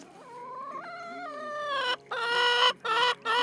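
Hens in a separate farm enclosure cluck and squawk close by in a run of tonal, rising calls with short gaps, loud and alone without any talk.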